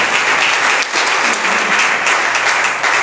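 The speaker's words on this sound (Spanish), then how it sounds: "Un aplauso a ese ministerio." A church congregation at a deliverance seminar in Freehold, New Jersey breaks into loud, continuous applause for a visiting ministry, a dense roar of many hands clapping that holds steady from start to finish.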